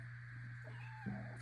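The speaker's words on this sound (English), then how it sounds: "He meows a lot while Bramble hardly ever opens his little meow box" A farm kitten gives a single short meow near the end. It is faint and distant over a steady low hum.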